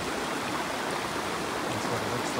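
Water in Eaton Creek flows steadily in a canyon on a hot day, giving a continuous, even rushing wash close by with no voices.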